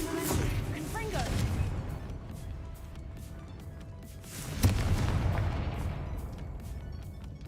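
Confringo blasting spell explosions in a Harry Potter-style video game: two heavy booming blasts with crackling debris, the second sharper and louder, each decaying over a couple of seconds with faint game sounds between.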